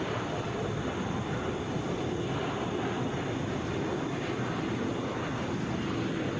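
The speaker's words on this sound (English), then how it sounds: "Delta 995 headed to Denver. Airbus A321." A Delta Airbus A321 jet airliner on a flight to Denver at Atlanta International Airport makes a constant broadband roar of moderate loudness that holds steady throughout, with no voices.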